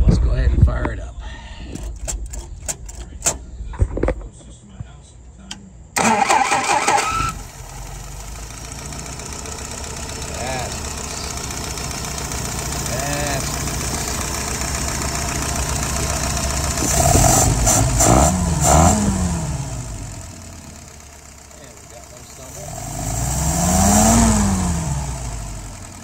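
Clicks and handling noises come first, then a vehicle engine cranks and catches, settles into a steady idle, and briefly revs twice in smooth rising and falling swells, with a voice speaking over it at times.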